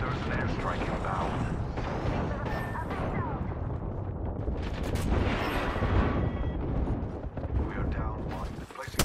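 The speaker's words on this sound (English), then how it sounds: "There's an airstrike inbound." Airstrike explosions rumble through an Apex Legends battle: dense, continuous crashing and mechanical clatter fill the scene at moderate loudness, with game voices speaking over it.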